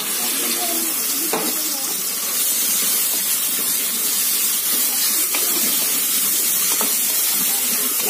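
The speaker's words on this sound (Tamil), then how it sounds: "வெங்காயம் நல்லா வதங்கட்டும்." Sliced onions sizzling and frying in a pan while mushroom biryani is cooked, with mint and coriander leaves added. A loud, steady hiss runs throughout, broken by a few soft stirring knocks.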